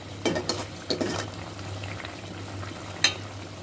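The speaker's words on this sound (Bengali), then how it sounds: "ভাজা মাছগুলো দিয়ে দিলাম।" Fried tengra fish simmering in a thick bhuna curry in a pan gives a steady low sizzle and bubbling, with a few brief stirring scrapes early on and a sharp clink near the end; no voices.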